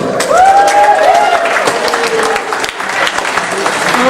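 Audience clapping at a high school pageant, a dense, loud burst of applause that holds steady throughout with a few whoops and cheers on top.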